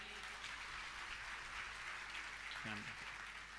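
Audience clapping at a spiritual discourse by a Jain acharya, a steady dense wash of many hands with a voice speaking briefly over it near the end.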